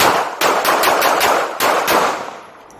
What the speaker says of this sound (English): two men casually firing high-powered weapons in the air